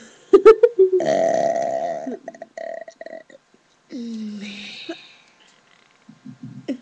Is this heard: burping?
yes